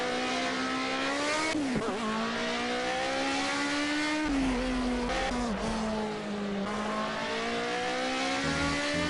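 Race car engine in the Project CARS racing game revving steadily at high pitch, rising and dipping through gear changes with a brief tire squeal, loud and continuous with no talk.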